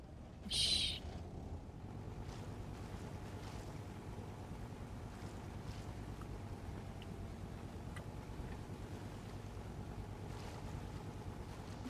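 Steady low droning boat engine in the survival game Rust, running continuously at an even level from start to finish, with a brief high-pitched chirp near the beginning and no talking.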